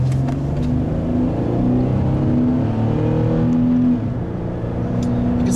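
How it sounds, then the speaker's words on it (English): A 2013 Ford Taurus Limited on 19-inch wheels accelerates, heard from the cabin as a steady, loud engine drone with a slowly rising pitch over road noise, with no talking. "You can see acceleration is actually a little bit soft."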